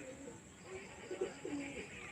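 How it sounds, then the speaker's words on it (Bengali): Pigeons coo softly outdoors in a few low, rolling phrases, faint and a little distant over a steady background hiss. "দেখুন পায়রা চলছে দেখুন"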